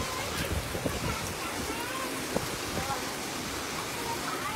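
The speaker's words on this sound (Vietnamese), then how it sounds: "Mưa quá cả nhà ơi, bữa nay đi mà ngay cái lúc đang mưa, mưa lớn nữa." Heavy rain pours steadily at a temple on the outskirts of Ho Chi Minh City, a dense, even hiss with scattered drop spatters, while a voice speaks now and then over it.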